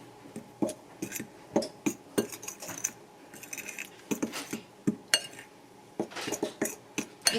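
A utensil clinks and scrapes rapidly against a bowl while seasoning is stirred into flour for chicken wings: a close, irregular series of sharp metallic taps with short pauses between bursts.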